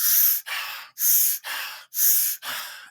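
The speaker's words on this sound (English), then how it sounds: "So 1 minute of active breathing," Rapid, forceful breaths from an active breathing exercise, six sharp inhales and exhales alternating in a quick, even rhythm, close and clear.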